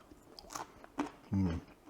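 Mushrooms seared on a Himalayan salt block crunch in a short, close bite, with one sharp crackle standing out near the end.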